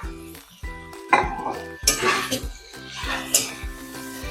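Finely and thinly sliced cabbage tossed into a pan of vegetable pocket filling and stirred, giving a series of close metallic clatters and scraping spoon strokes over a light sizzle.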